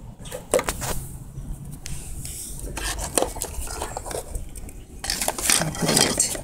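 Metal parts of an InnoGear solar spotlight being fastened with a nut, giving scraping, clinking and rubbing metallic sounds at close range, with a few louder clatters near the end.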